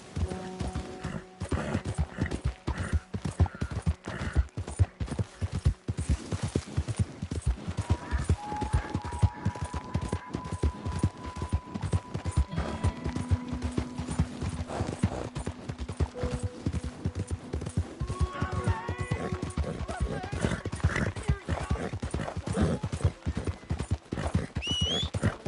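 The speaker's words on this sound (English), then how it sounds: "That horse don't listen." A horse's hooves clip-clop steadily on a hard surface, close and fairly loud, with a whinny and a few other tonal calls breaking through the rhythm.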